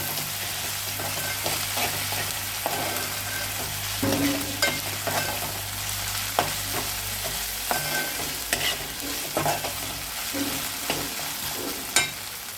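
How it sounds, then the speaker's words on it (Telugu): Ginger garlic paste fries with onions in a pan, giving a steady close sizzle while a spoon stirs and scrapes at intervals, with no voices. "అల్లం కూడా పచ్చి వాసన పోయేంత వరకు వేయించుకోవాలి"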